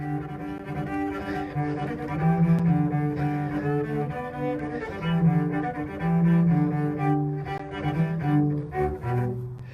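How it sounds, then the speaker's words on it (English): A viola plays a lower, mellow melody with sustained notes and dense harmonics, steady and moderately loud. "So that's something like the sound of a viola."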